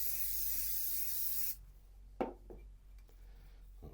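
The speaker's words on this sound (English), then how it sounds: "We're going to spray some activator onto this side" Glue activator sprayed onto a wooden inlay piece: a steady, close hiss of aerosol for about a second and a half, then cut off, followed by a few light taps and rubbing sounds of wood being handled.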